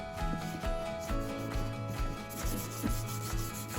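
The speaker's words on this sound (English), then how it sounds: "That's using the wire side of this brush, and it's really loosening things up" A wire brush scrubs surface rust off an old J Bingham No 126 hand brace in steady, rhythmic back-and-forth strokes, close and continuous, with no talking.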